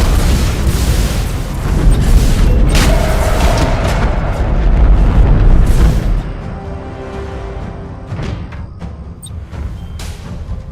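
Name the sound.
explosion of enemy defense platform in Battlefleet Gothic Armada 2 video game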